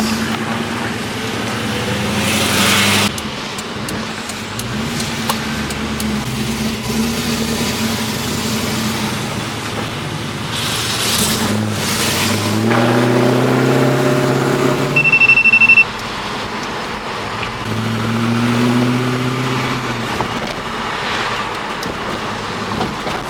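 An LS V8 swapped into a Holden VH Commodore runs with a loud, rough engine note that rises and falls in several revving attempts, straining and reluctant to climb, with a brief higher whine partway through.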